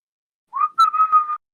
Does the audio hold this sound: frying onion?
no